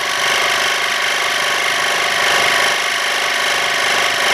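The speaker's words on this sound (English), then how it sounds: "use the compressor to air up your tire" A portable air compressor inflating a tire runs with a steady, loud mechanical motor drone and a constant buzzing hum, without pause and no voices.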